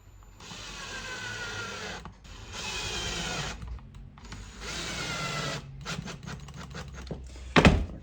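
A power driver sinks zinc plated countersunk screws into the heel block of weightlifting squat shoes, three long whirring runs separated by short pauses, followed by a few ratcheting clicks and a sharp thunk near the end.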